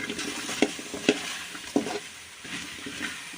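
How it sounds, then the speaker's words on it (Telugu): Okra fries in a little lightly salted oil in a pan, giving a steady close sizzle punctuated by several sharp scraping stirs at irregular intervals. "బెండకాయలు అయితే కొంచెం ఫ్రై అయినాయి కదా ఇంకొంచెం ఫ్రై అవునివ్వండి"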